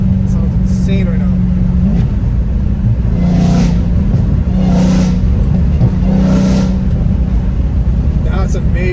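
Catless Dodge Challenger Hellcat Redeye revving hard on a highway, a loud continuous engine roar with surging pulls that swell and fade, heard from inside the car with voices talking over it.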